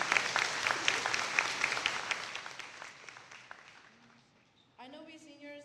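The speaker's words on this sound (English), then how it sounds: "Round of applause." Applause from the crowd at the Vineland High School moving-up ceremony: sustained clapping that gradually fades, then a speaker's voice takes over at the end.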